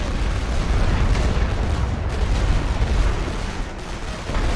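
A suppressive artillery barrage pounds a machine gun position in Elite Great War on the Western Front, a dense, continuous roar of heavy booming explosions that stays loud throughout, with no voices over it.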